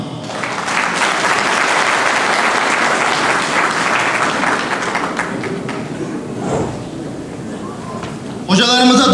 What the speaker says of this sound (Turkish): Hocalarımıza daha güçlü bir alkış istiyoruz